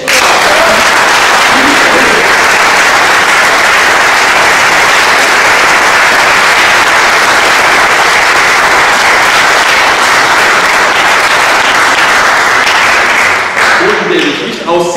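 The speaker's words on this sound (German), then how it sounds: "bitte begrüßen Sie mit mir ganz, ganz herzlich, ebenso mit einem frenetischen Applaus aus Übersee" Enthusiastic audience applause welcomes a speaker from Utah at a magic society's anniversary gala in Hamburg, a loud, unbroken roar of clapping lasting the whole stretch before a voice starts at the end.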